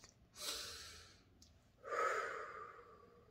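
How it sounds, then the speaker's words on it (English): Two slow, deep breaths drawn in close to the microphone, soft and airy, each swelling and fading over about a second against a quiet background. "Take in that deep breath."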